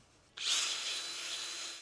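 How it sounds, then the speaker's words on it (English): A power drill starts suddenly and whirs with a bristly cleaning brush scrubbing corrosion off a metal rear brake bracket on a 2009-2013 Subaru Forester, a steady abrasive hiss up close. "We can use that same drill and cleaning brush and just get the best we can"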